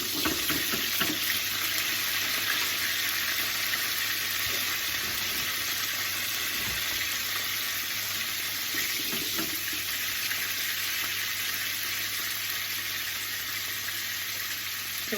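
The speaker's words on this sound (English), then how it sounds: "we just want to fry them to release the beautiful flavours and essence of the caper berry itself" Capers fry lightly in a pan, giving a steady, even hiss and sizzle that holds at one level throughout with no talk.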